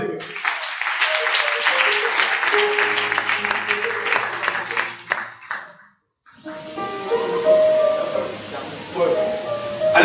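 A church congregation at a worship service applauding and acclaiming, with sustained clapping mixed with voices and bright keyboard tones; the clapping breaks off briefly before the music and voices resume.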